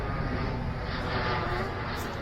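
An airplane passes overhead, a broad, rumbling roar that stays steady and fairly loud across the whole stretch, with no voices.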